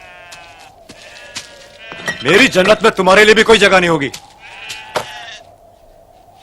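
Sheep bleating in a dramatic retelling of the creation story: a few wavering bleats sound near and clear, mixed with a voice speaking over the middle of the clip.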